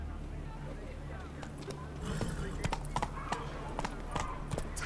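Roach, Geralt's horse in The Witcher 3: Blood and Wine, walks with steady clip-clopping hooves over a low ambient rumble, the hoofbeats growing slightly louder and more distinct partway through.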